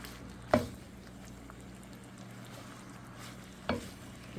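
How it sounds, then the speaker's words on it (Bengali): Kalmi greens being stirred with hilsa fish in a cooking pan, two brief scraping stirs against a soft, steady background with no talk. "সব শাকগুলা দিয়ে আস্তে আস্তে নেড়ে কমিয়ে নেব"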